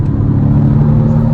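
A 2022 BMW M235i Gran Coupe accelerates during a test drive, its engine giving a steady, loud low rumble and whir heard from inside the cabin, with no talk.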